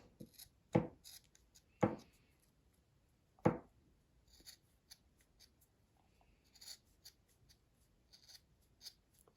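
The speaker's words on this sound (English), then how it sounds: "get my scissors and cut this in half so it's a little bit thinner" A few sharp, isolated scissor snips and scraping cuts through ribbon come at irregular intervals, close and quiet, with soft rustling in between.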